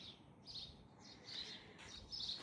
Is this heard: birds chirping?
yes